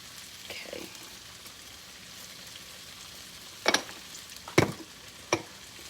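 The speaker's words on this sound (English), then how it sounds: "I'm gonna let that cook for a few minutes and get a good crust on one side" Salted, peppered potatoes fry in a pan with a soft, steady sizzle throughout, broken by a few sharp clanks and scraping stir sounds toward the end.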